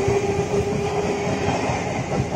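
Toy Indian Railways Duronto Express train giving off a steady, loud electronic rumble of running wheels with a sustained whistle-like tone, continuous and up close throughout with no talking.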